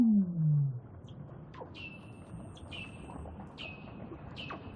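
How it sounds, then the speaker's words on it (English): Weddell seals call beneath Antarctic ice, a series of eerie descending whistles and trilling sweeps, repeated several times over a low rumbling underwater background after a brief loud low sound at the start. "They're actually the calls of Weddell's seals."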